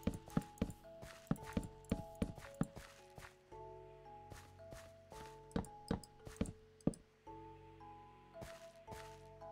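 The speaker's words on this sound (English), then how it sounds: "I think my own footsteps are scaring me." Blocky footsteps of a player character walking in Minecraft survival mode, a string of soft, evenly paced thuds and crunches close by over a steady background tone, with no one speaking.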